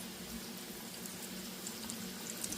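Hot oil for deep frying breaded fish, giving a steady, faint bubbling and crackling hiss that continues evenly throughout with no talk over it.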